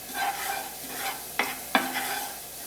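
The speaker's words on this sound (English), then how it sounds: "we're going to sauté the garlic for about 30 seconds" Garlic and red pepper flakes sautéing in oil in a pan for a spicy beet green crostini, a steady soft sizzle broken by two sharp scraping stir strokes near the end.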